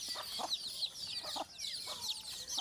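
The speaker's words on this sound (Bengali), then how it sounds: "দেখুন মুরগির বাচ্চাগুলো কিন্তু ডাক" Young native chicks, a few days old, peeping in quick, high, repeated calls, close and fairly faint, with no talk.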